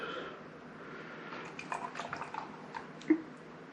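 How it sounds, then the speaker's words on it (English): A pale gold beer, Yeastie Boys from New Zealand brewed by Utopian Brewing, poured gently from a can into a rinsed glass, a quiet trickle with soft drips and a small clink near the end. "quite a gentle pour"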